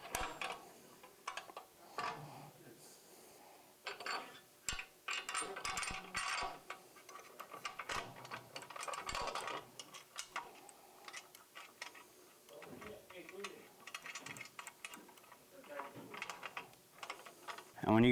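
Bolts being ratcheted down on a Harley M8 Softail Low Rider front fender with a reveal wrapper, giving bursts of rapid ratchet clicks separated by pauses, with occasional talk in between.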